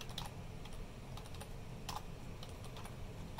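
Keys clatter on a computer keyboard while a password is entered, a quick, light string of close clicks at an uneven pace over a quiet room.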